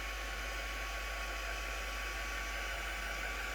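A hair dryer blows steadily at close range to quickly dry a painted artwork, a constant loud whooshing roar with a thin whine and no pauses.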